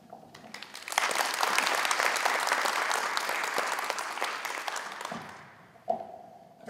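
Applause at a police academy graduation ceremony, a crowd breaking into loud, sustained clapping that swells, holds for several seconds, then tapers off before a voice returns.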